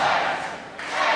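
A loud Irish Whip Wrestling crowd roars and chants at a live match, dipping briefly before swelling again.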